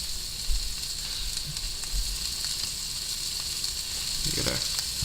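Steak fries in a hot pan, giving a steady, fairly quiet hiss and crackle that runs without a break, with a few faint knocks in the background.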